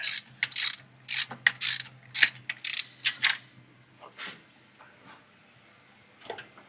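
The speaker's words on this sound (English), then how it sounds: "Tighten up, Junior." A ratchet wrench clicks in quick bursts while tightening a bolt on a 1980 BMW 528i, with rapid runs of ratcheting separated by short pauses and a few fainter clicks near the end.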